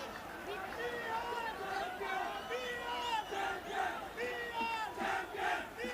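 Loud, excited crowd roaring and shouting without pause at a 1985 India vs Pakistan cricket match in the Rothmans Four Nations Cup, an energetic stadium din rising and falling in waves.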